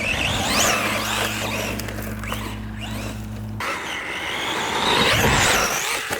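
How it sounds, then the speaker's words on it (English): An Arrma Gorgon brushless 3S RC truck drives past with a steady electric whine that shifts in pitch, then gives way to rough rolling and crunching noise as it tumbles over the ground. "Dude, this thing rolls like no other."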